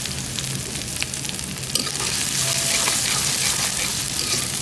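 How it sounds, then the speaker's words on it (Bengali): Chopped onions fry in pure mustard oil, giving a steady close sizzle with occasional soft crackles that grows slightly denser toward the end. "পেঁয়াজ কুচি দিয়ে দিলাম, একটু বেশি করে দিলাম।"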